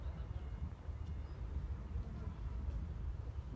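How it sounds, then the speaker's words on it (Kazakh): A steady low rumble of a passing Turkistan–Pavlodar passenger train, continuous and fairly loud, with faint wind-like noise above it. "Бүгінгі күннің пойызы осы пойыз болып тұр енді"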